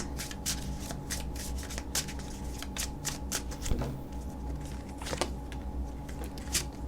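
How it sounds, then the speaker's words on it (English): Tarot cards are shuffled repeatedly in quick, crisp riffling bursts, close up and fairly quiet, with a soft tap partway through. "Let me shuffle these cards again."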